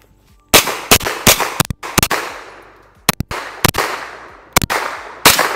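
A KelTec Sub2000 9mm carbine fires about a dozen sharp, loud shots outdoors on a hillside, in irregular bursts and single reports, each followed by a short ringing echo.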